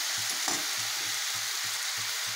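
Curd and gram flour batter frying in a pan for a capsicum sabzi, producing a constant high hiss of sizzling with a faint, regular low thumping pulse underneath and no talk.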